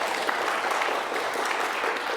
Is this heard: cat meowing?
no